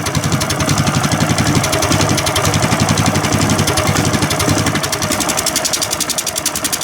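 A small engine, just refitted with its oil rings and running without back pressure on the muffler, chugs in a fast, loud, even rhythm like a Harley for several seconds without talk.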